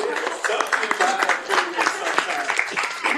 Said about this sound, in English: Let's give the young lady a round of applause